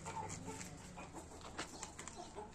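Chickens cluck and call in a coop after fighting, with soft overlapping clucks in a close, faint, busy farmyard setting and no talk.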